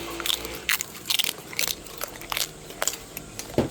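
Crunchy roasted pork lechon belly being bitten and chewed up close, giving a string of sharp, crisp crackling crunches in irregular bursts with brief pauses between.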